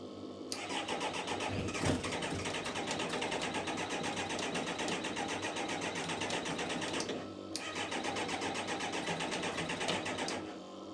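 A track machine's engine cranks and catches, then runs steadily with a loud, buzzing mid-pitched drone, dipping briefly before picking back up; close and alone, with no talking.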